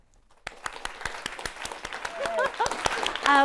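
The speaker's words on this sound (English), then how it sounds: "So huge round of applause for Elizabeth Weil." A talk audience claps for an entrepreneur and venture capitalist, starting with distinct separate claps that thicken into fuller applause, while a few faint voices rise briefly near the end.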